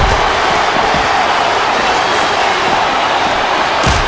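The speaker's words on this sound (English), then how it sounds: "Listen to the crowd, JR." Crowd noise from a televised wrestling arena event roars loud and unbroken throughout, with a couple of sharp thuds standing out near the start and end.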